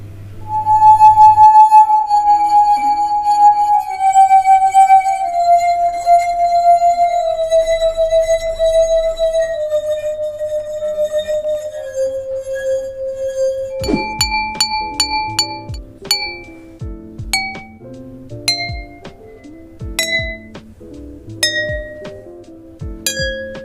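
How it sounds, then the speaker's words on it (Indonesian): Glasses filled with different amounts of water ring out, first in a long sustained tone whose pitch steps gradually downward, then as a series of struck clinks at varying pitches, loud and clear with no talk. "ayo kita amati kembali bunyi-bunyi yang dihasilkan oleh setiap gelas"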